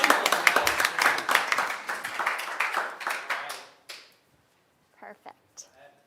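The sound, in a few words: audience clapping Caroline in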